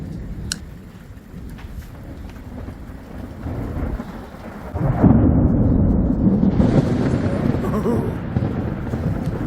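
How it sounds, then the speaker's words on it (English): Heavy rain drums on the outside of a tent while thunder rolls and builds during a summer storm in the Kalahari, the rumble swelling loudly in the second half and staying steady without any talk. "The thunder and lightning sounded like it was just outside our tent."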